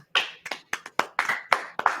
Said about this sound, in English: I think this is the first time we've ever given somebody a round of applause